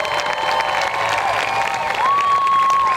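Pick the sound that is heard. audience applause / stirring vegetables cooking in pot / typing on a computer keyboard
audience applause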